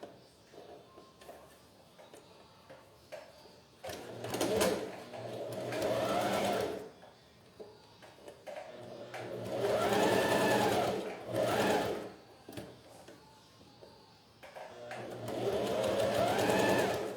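A sewing machine stitches a fabric jewelry holder in three short runs, each rising to a fast, close whirring hum and then stopping, with quiet pauses and light handling noise between them.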